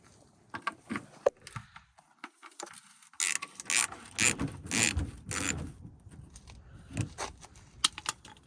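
A ratchet wrench works 10mm bolts loose on a Toyota Tacoma during a fog light install near the fender, giving scattered clicking bursts that grow denser and louder midway, close up with no talk.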